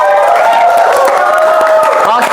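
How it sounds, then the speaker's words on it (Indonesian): A campus audience at a Ramadan-themed Q&A event claps and cheers for the speakers. The noise is loud, dense and continuous, with whoops throughout. "Tepuk tangan dong untuk narasumber kita."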